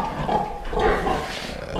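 A pig on a farm where piglets are raised gives low grunts and snuffles close by, short rough bursts over a muddy barn background with no talking.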